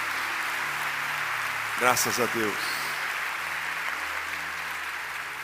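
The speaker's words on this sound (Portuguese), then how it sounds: "dá uma salva de palmas para Jesus, exalta o nome dEle" A church congregation applauds in praise to Jesus, a broad, steady wash of many hands clapping throughout, while one voice briefly speaks near the middle.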